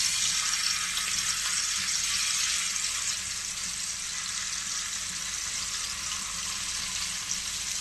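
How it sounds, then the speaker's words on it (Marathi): A green chilli frying in hot oil in a pan, a steady, dense sizzle that holds at an even level throughout with no talking. "आता इथे मी एक मिरची सोडून फ्राय करून घेणार आहे"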